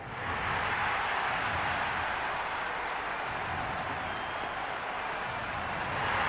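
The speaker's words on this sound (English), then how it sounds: "The crowd are making a heck of a lot of noise even before the first ball's been bowled" A large crowd roaring steadily in a cricket stadium at an IPL match before the first ball, a constant wash of cheering and noise heard from a distance.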